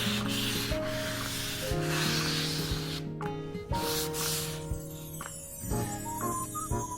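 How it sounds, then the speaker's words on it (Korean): Sandpaper rubbing along the edges of a camphor wood cutting board, a steady close scratching texture in repeated strokes, with sustained tonal hum and faint clinks in the background. "모서리 부분도 꼼꼼히 사포질"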